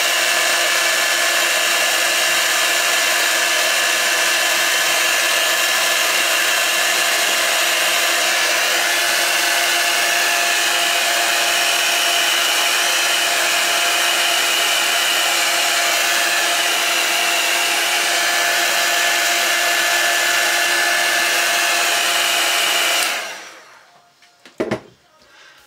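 A hair dryer blows steadily and loudly while drying Distress ink colours on a card-making project, a constant whirring roar that runs unbroken for about 23 seconds before cutting off abruptly, followed by a couple of faint knocks.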